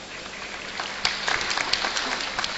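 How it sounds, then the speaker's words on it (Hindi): Audience applause in a hall during a spiritual talk on karma and fate, a soft steady patter of many hands rising slightly midway, fairly distant and diffuse with no talking. "आप किसके लिए ताली बजा रहे हैं?"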